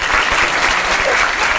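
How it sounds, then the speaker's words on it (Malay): Schoolchildren in a classroom give a classmate a loud round of applause, a dense, sustained burst of close clapping lasting under two seconds. "Murid-murid, boleh beri tepukan yang paling gemuruh pada rakan kita"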